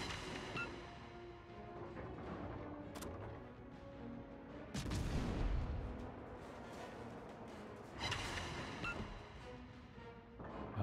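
Naval guns on ships in World of Warships fire AP shells: heavy booms rolling out over continuous battle ambience, with a couple of bigger blasts standing out among the rumble.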